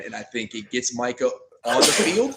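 A single loud sneeze bursts out right after a man finishes a sentence during a casual sports talk show, the sharp noisy blast standing alone and close.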